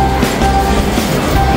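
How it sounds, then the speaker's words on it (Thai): A train rumbles past close by, a loud, steady mechanical roar with faint high whines and rattling throughout. "หลบรถไฟครับเดี๋ยวรถไฟเฉียว"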